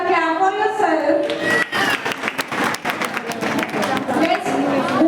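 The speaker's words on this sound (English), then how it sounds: "Clap for yourself." Audience applause and clapping at a Women's Day celebration, a burst of many hands clapping that starts after a spoken voice and then continues, with talk and crowd chatter mixed in.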